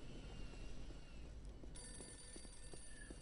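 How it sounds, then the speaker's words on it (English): Telephones ringing in the video game Postal 2, a faint electronic bell trill that stops and then starts again in a steadier, tonal pattern over low background noise. "with the stupid phones. It's the most annoying sound on the planet."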